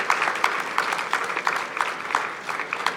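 An audience at the Orange Tree Foundation makers gathering claps for co-founder Mushtaq Chhabra, a steady patter of moderate applause through the whole moment.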